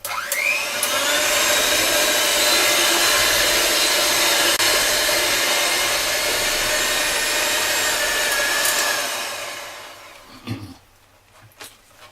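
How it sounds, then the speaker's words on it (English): An electric stand mixer kneads sourdough bread dough with a steady, loud whirring motor hum that holds for about nine seconds, then winds down and stops, leaving faint handling noises. "Now I'm going to mix everything for about 4 minutes."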